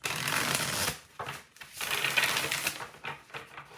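Tarot cards are shuffled by hand in quick riffling bursts with short pauses between, close and crisp with no talk.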